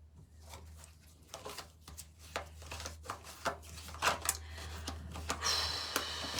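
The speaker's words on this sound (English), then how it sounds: "So I'm just shuffling the cards," Deck of cards being shuffled, quiet irregular riffling and soft clicking bursts over a low steady hum, with no voices.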